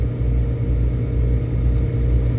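A car cruises at 70 mph on Interstate 40 in Tennessee, heard from inside as a steady low engine and road rumble with a constant drone and no talking.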